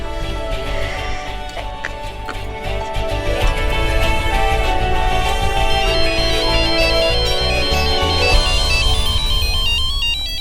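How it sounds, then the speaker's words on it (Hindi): A mobile phone ringtone plays loudly and continuously, a bright repeating electronic melody filling the room without pause. "फोन बज रहा आपका"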